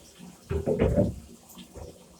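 Water running from a shower onto a Dyson DC07 Allergy upright vacuum cleaner being rinsed clean. A short, soft splashing burst rises and fades within a couple of seconds.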